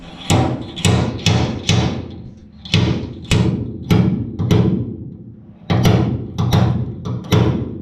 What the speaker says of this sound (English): Start hammering on them again.